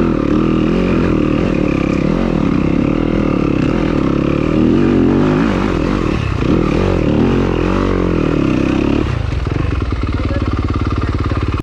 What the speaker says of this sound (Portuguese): Vem o rider com sua moto.